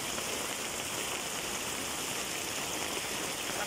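Very heavy downpour pours down steadily as a dense, loud, unbroken hiss of rain with no let-up, close and constant throughout.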